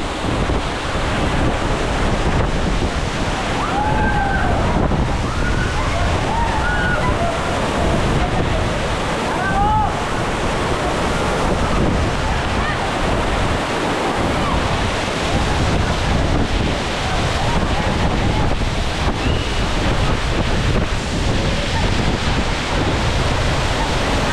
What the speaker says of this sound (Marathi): फवारा लय जास्त आहे, मोठ्या प्रमाणात पाणी उडतंय.